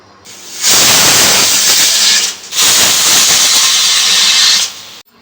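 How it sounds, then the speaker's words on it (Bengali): A pressure cooker cooking rice and lentils lets off loud, close steam hiss in two long sustained bursts separated by a brief break. "যতক্ষণ চালে ডালে ওটা হচ্ছে প্রেসার কুকারে সিটি মারছে"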